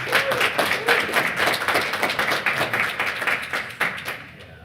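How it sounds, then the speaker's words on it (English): Audience applause welcomes a speaker at a privacy summit, a dense patter of many hands clapping close and loud, individual claps standing out, tapering off toward the end. "Let's have a loud and thunderous applause for Wei Dai."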